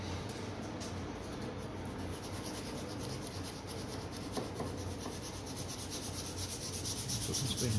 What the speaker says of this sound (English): So I can spend more time hand sanding this little stupid Picasso.